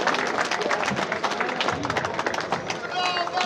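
A crowd applauding at an award ceremony for a Group 5 motorcycle race in Lanciano, steady dense clapping with cheering and babble throughout, loud and close.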